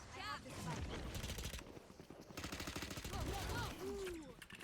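Video game gunfire, rapid bursts of automatic shots in quick fusillades, close and loud, with a person talking over the shooting.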